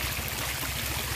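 Floodwater streams steadily beside a roadside fish trap during flooding in Wang Saphung, a continuous rushing wash of moving water, close and even throughout with no voices.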